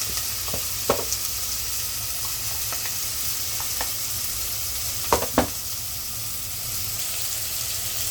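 Tomato pieces cook in a frying pan with a little salt for a Telugu-style cauliflower curry, giving a steady soft sizzle with a few sharp stirring clicks near one second and around five seconds; no one speaks.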